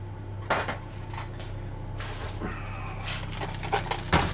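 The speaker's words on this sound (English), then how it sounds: "I'll move that pan out of the way." A metal pan shifted around a home kitchen while cooking chicken, with a few clattering knocks and scrapes against the counter, quiet and close, no talking.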